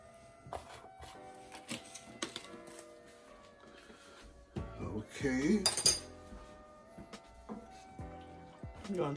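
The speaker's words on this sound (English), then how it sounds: "So I'm stirring all of this seasoning." A spoon stirs seasoning in a pot for lobster mac and cheese in a home kitchen, giving scattered clinks and scraping taps. A louder cluster of clatter comes near the middle, with brief speech mixed in.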